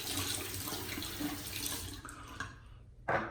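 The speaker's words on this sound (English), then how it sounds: "Just rinse off the face." Water running from a tap while a face is rinsed after shaving, a steady close splashing stream that stops abruptly near the end, followed by a short final splash.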